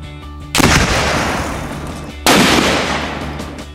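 Two loud, close sniper rifle shots fired a couple of seconds apart, each a sharp blast followed by a long rolling decay, with a steady background hum beneath.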